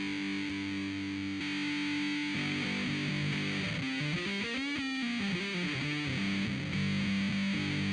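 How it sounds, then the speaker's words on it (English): A Gibson SG Special electric guitar played through 78 distortion and Swollen Pickle fuzz pedals, thick saturated chords ringing continuously and loud, with a bending, wavering lead phrase in the middle. "This is the 78 distortion and the Swollen Pickle."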